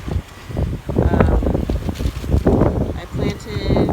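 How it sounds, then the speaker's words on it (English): Gusty wind buffets the microphone in low rumbling bursts, loud and uneven throughout the clip, in a spring vegetable garden. "very windy."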